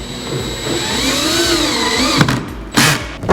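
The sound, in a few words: drill driving pocket screws with 6-inch bit into cabinet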